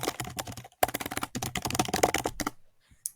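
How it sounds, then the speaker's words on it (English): Rapid clattering of keys on a computer keyboard, fairly close and moderately loud, comes in dense bursts with a brief pause, then fades to silence and one last faint tap. "Sorry for the typing."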